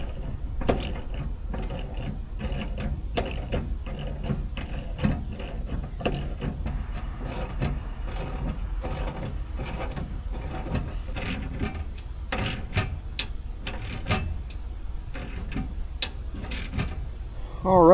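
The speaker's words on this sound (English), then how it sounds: "put the washers on the back and tighten the lock nuts down" Lock nuts are tightened on a steering helm bracket during a boat build, giving steady, close ratcheting clicks that repeat in quick irregular bursts throughout, with a brief louder clatter at the very end.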